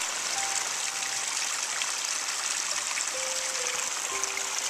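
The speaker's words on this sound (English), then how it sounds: "And the river's way up, so I thought I would document it." A river swollen after rain flows with a steady broadband rush and trickle, constant and moderately loud, with faint birdsong above it on a dreary morning.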